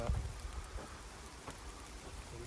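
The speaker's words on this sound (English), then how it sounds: "We are getting some rain." Steady rain falls outdoors at a classic car scrapyard, a continuous broadband hiss of drops on surfaces with no talking.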